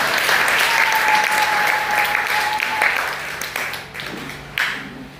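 A church youth congregation claps for Jesus in dense, loud applause that carries on steadily before thinning out toward the end.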